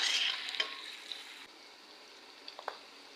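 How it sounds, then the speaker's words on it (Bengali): Onions fry in oil with cardamom, cinnamon and nutmeg, a soft close sizzle that is strongest at first and then fades to a quiet hiss, broken by a few light clicks of stirring. "পেঁয়াজটা এখন ভালোভাবে ভেজে নিব।"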